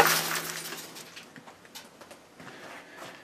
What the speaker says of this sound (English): Well, that sounded like a good explosion, and there's absolutely nothing left of the glass envelope.